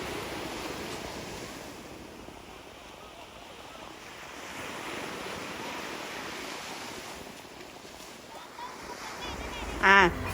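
Ocean surf rolls steadily onto a shallow beach in Niigata, Japan, a continuous wash of waves mixed with wind noise on the microphone, with a brief louder knock right at the end.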